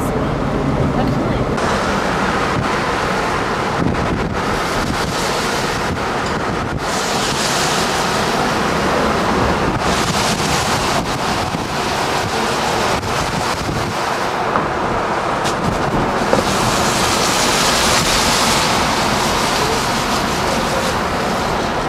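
Ocean waves wash steadily along the shore at Key West, a continuous broad surf roar mixed with gusting wind buffeting the microphone, while voices speak briefly now and then.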